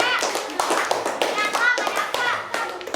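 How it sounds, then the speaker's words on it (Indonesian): Students in a classroom during a peer-teaching lesson clap their hands, an uneven patter of nearby claps and taps mixed with children's voices talking over it. "Oke, tepuk tangan ya buat kita semua."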